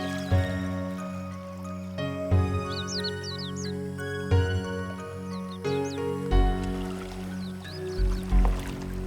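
Water trickles in a garden pond crossed by a stone bridge at a historic Goryeo site, with gentle irregular drips and splashes. Musical tones and a few bird-like chirps run underneath.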